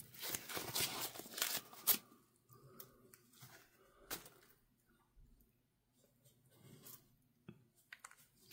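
A package is unwrapped at close range, with a loud burst of crinkling and tearing wrapping material at first, then sparse rustles, taps and handling noises trailing off through quieter gaps.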